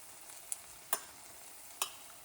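Spices fry in oil in a pan with a faint, steady sizzle, broken by a few sharp clicks of stirring.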